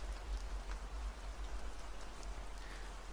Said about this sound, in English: Hopefully the rain isn't too loud.